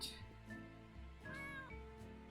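A cat in the video game Paper Mario meows a couple of times, drawn-out and fairly close, over a soft steady musical background.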